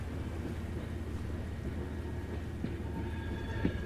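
A train in Blair Witch VR rolls along with a steady low rumble and rattling wagons, wind noise blowing over it and a few faint clanks near the end.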